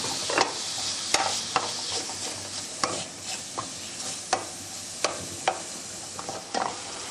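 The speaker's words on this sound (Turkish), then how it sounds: "önce kıymamızı kavuracağız." Ground beef frying in butter in a pan for börek filling, a steady sizzle broken by regular scraping and stirring strokes of a utensil every second or so, close and clear with no talking.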